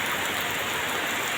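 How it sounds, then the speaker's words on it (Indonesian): Steady rain pouring down on a Sunday afternoon, a dense, even hiss with no distinct drops or other sounds. "alhamdulillah hujan."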